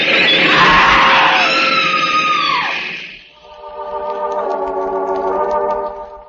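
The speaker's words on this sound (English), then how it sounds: "The woman screams." Woman in an audio drama letting out a long, loud, piercing scream near a train platform, followed by a rising metallic grinding and screeching like a train braking to a stop.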